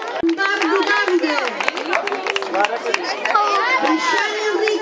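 Children at a youth cycling trophy ceremony are cheered by a crowd clapping and chattering, with scattered claps and lively voices mixed throughout.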